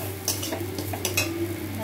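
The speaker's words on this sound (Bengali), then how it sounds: "এবার সমানে নাড়াচাড়া করতে হবে, সমানে।" Pointed gourd mash is stirred steadily in a pan, giving soft scraping clinks of a spoon against metal in a quiet, close rhythm over a faint sizzle.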